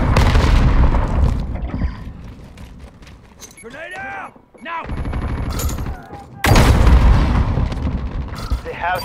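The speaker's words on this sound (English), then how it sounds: "Grenade out! Now!" Loud, dense gunfire and a heavy grenade blast ring out in Call of Duty: Modern Warfare's Cyber Attack 6v6 mode on Hackney Yard by day. Voices call out and a brief quieter lull sits between the bursts.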